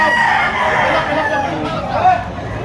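Rooster crowing amid a busy Batangas poultry market where fighting cocks are bought and sold, the crow rising over steady crowd babble and nearby chatter.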